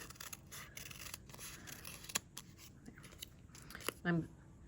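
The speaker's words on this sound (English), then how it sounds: "slide my scissor blade in there and cut carefully." Scissors cut carefully through a paper stencil, with soft, irregular snips and rustling heard under a person speaking.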